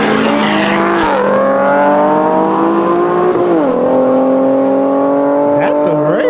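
Cars race with a Duramax diesel truck among them, and a loud engine climbs steadily through several gear changes at close range. A voice speaks briefly near the end.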